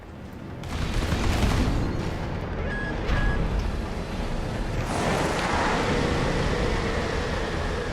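Enemy gunfire and explosions in the Armored Core VI mech game form a dense, rumbling barrage of booms that swells after the first second and again past the midpoint, loud and continuous with no voices over it.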